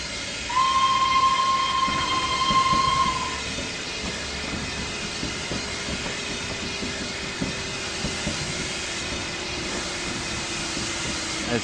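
A Peppercorn K1 steam locomotive in the game Train Simulator 2016 at a heritage museum line gives one long, clear whistle blast, then keeps up a steady chuffing rumble and rolling hiss, with a faint drawn-out tone.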